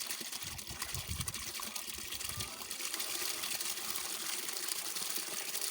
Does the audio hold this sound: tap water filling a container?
yes